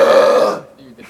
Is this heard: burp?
yes